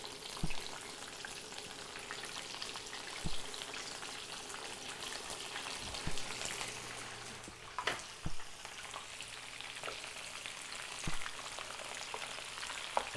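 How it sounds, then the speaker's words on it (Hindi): Cauliflower florets, about fifteen or sixteen pieces, deep frying in oil until golden, giving a steady soft sizzle with occasional louder pops and crackles spread through the clip, no voices. "मैंने जो है 15 से 16 पीस गोभी के फ्लोरेट्स लिए हैं और इसको गोल्डन फ्राई करना है हमने"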